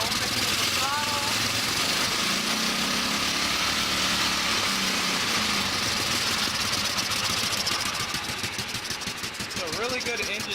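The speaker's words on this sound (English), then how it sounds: "So here's the idle. Turn it up just by pushing that, opening the throttle." A 1989 Sears tractor engine runs steadily close by, its rough, buzzy idle continuing throughout while someone talks over it, rising slightly in pitch toward the end as the throttle opens.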